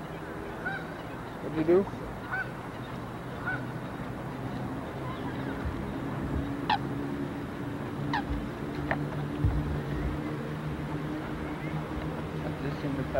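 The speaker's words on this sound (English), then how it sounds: "I'm interested in the ducks." Geese or ducks honk in Hyde Park, London, a few scattered calls at a distance over steady outdoor background noise, with brief talk nearby.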